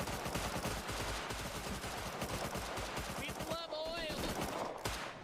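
Rapid bursts of video game gunfire crackle in a busy firefight, loud and dense throughout, with voices talking over the shooting.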